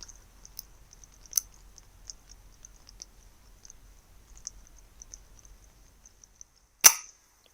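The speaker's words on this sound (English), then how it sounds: "you'll see this first shot is actually a miss" A single sharp crack of an FX Impact M3 air rifle shot rings out near the end, following several seconds of faint scattered clicks outdoors at a woodland feeder.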